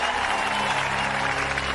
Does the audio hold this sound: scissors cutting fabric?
no